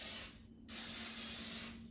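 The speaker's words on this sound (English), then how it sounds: "I'll spray the bottom and sides of the pan with a non-stick cooking" Non-stick cooking spray hisses onto the bottom and sides of a cake pan for air-fryer baking, in two close bursts: a short spritz, then a longer steady spray, with no talking.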